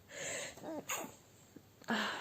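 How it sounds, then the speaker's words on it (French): A single close sneeze with a sharp breathy burst, preceded by a drawn-in breath and followed by a brief snuffle. "Je devais éternuer"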